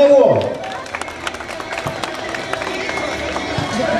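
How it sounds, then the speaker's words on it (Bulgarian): A crowd claps in scattered, quick bursts after a brief voice at the start, with murmuring and some movement underneath. "Аплодисменти за него!"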